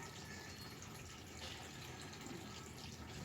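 Water drains steadily from an antique washing machine, a continuous faint rushing and gurgling wash of noise with no talk.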